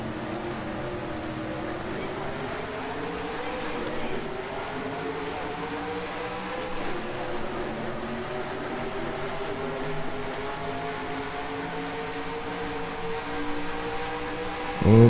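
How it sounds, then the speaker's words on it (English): Race car engines in the NR2003 NASCAR racing game on the Charlotte oval, a steady droning whine that slowly rises and falls in pitch throughout, with a sudden thump at the very end. "so I can hear the engine sounds"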